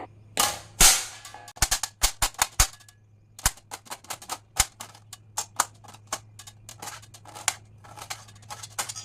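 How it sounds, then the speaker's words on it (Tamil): Onion being chopped with a knife on a board while cooking potato masala for dosa, a string of sharp, irregular close cuts and taps with no talk. "இப்போ வந்து நம்ம ஆனியன் கட் பண்ணிக்கலாங்க"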